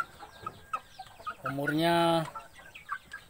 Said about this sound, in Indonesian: Ini ayam kampung asli.